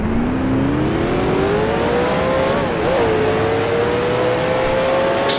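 A race car in the Grand Prix Legends game, a 1966 Can-Am car at Mosport, accelerates away with a loud rising engine whine. It climbs steadily, dips briefly at a gear change, then holds a high, sustained drone.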